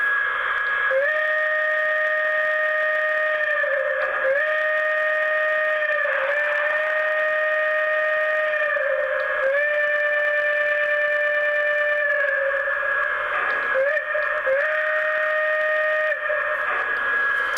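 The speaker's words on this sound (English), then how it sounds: "this whistle is probably one of my favorite in my collection" A model Union Pacific conventional steam locomotive whistle, #8080, sounds a long chime tone several times over, steady and loud with a heavy echoing reverb as if drifting through a canyon, with short breaks between blasts and no talking.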